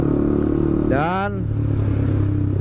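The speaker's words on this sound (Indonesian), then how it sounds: "si knalpot pun terdengarnya tuh bising kayak tadi" A motorcycle exhaust running without its DB Killer silencer drones loud and steady close by, a continuous throbbing rumble with someone speaking briefly over it.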